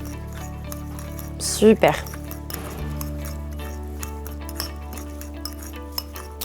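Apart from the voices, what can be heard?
mixing carrot-top pesto with a small fork in a bowl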